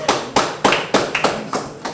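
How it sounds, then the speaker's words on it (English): Slow, separate hand claps at a children's school quiz contest, about seven loud, sharp strikes spaced roughly a quarter-second apart, close by, with little else beneath them. "Clap."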